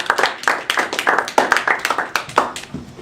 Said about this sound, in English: I think more applause is in order for Devin